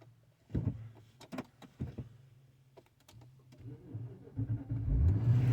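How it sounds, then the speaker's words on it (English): An Infiniti vehicle being switched on: a few close clicks and thumps, then a low engine rumble that rises and settles near the end, with no talking. "Let's turn the vehicle on."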